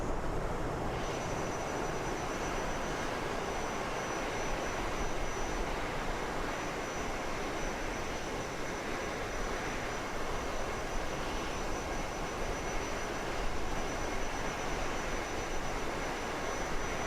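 Aircraft engines in Microsoft Flight Simulator 2024 drone steadily in the cockpit en route from San Francisco to Los Angeles, a constant, broadband roar with a faint high whine, no talk.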